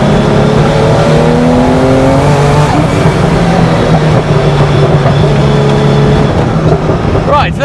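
A Guntherwerks Porsche 911 Turbo accelerates hard, its engine note climbing through rising gears loud and close, steady roar with a shift near the end; a voice speaks briefly over it.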